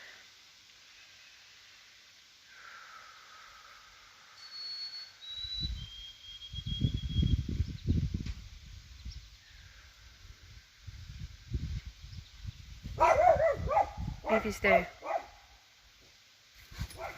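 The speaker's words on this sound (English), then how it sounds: "they like to bark at my neighbors" Dogs bark in short bursts at a home, a few loud close barks clustered mid-stretch with whimpers and a whistle-like tone, while a person calls to them briefly.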